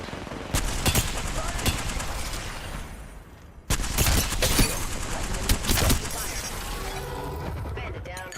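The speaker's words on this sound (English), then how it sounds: "Taking fire." Automatic gunfire from Apex Legends weapons in a firefight, loud close bursts in two dense stretches broken by a brief pause, with mechanical clatter and a voice speaking in places.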